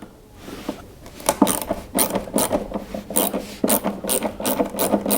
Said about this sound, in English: that's where you actually have to undo the bolt as well